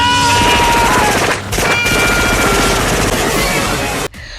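A sustained burst of rapid film gunfire aimed at a monster, with a dense, continuous rattle of shots, briefly dipping then resuming before cutting off abruptly near the end.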